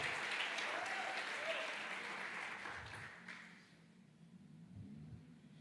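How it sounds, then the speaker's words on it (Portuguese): A church congregation claps during a worship service. Dense, steady applause fills the first three seconds or so, then fades into a quieter room with a few low sounds. "aplauda Jesus"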